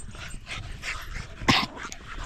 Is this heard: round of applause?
no